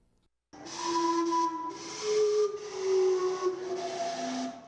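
The Gastown steam clock lets out a loud, sustained hiss of steam carrying several shifting whistle tones that waver and overlap for a few seconds, with no voices.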